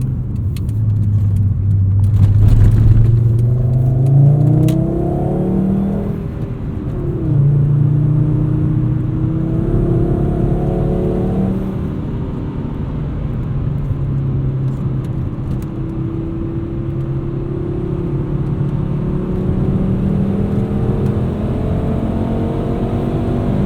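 A 5-speed Volvo 850 R with an IPD turboback exhaust accelerating from inside the car, its engine note climbing through the gears in several rising sweeps, loud and steady with no talk.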